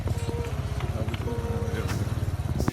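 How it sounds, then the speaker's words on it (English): Motorbike ride to the beach near Paso Caballos, Colombia, with the passenger riding on the back; a steady, close, rhythmic engine drone pulses throughout under faint voices. "I'm literally on the back of his motorcycle and we're zooming"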